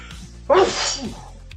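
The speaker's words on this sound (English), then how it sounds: "I'm over here sneezing." A single loud close sneeze from a man indoors, a sharp intake followed by an explosive burst that trails off, set against a quiet room hum.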